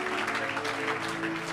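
A church congregation claps steadily together during a service, a continuous, even patter of applause with no voices standing out.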